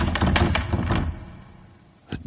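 A locked door in a pitch-dark stone room is tried, with a second of loud, rapid rattling thuds fading away, then one more knock-like jolt.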